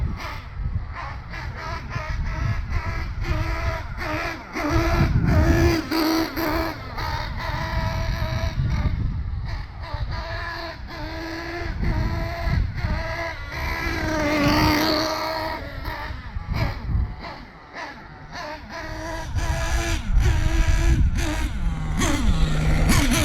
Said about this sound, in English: This right here is me trying to hit half throttle.